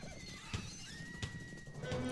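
Horses at a herders' lassoing championship in Övörkhangai province, Mongolia, with one clear whinny rising over steady outdoor rumble and a few sharp thuds, all at moderate distance.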